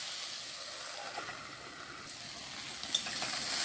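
Green beans and eggplant fry in a pan with a quiet, steady hiss of sizzling oil. A few faint pops and clicks break the hiss, and there is no speech.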